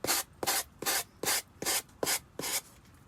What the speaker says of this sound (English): that I have all of this sanded down